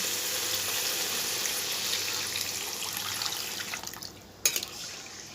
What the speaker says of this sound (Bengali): ওলটাকে খুব ভালো করে কষে নিয়েছি এবারে জল দিয়ে দেব